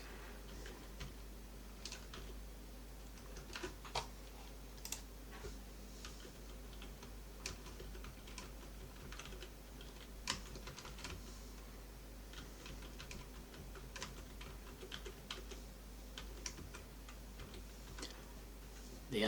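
Quiet typing on a computer keyboard while entering terminal commands, a steady stream of soft key clicks over a low hum, with no one talking.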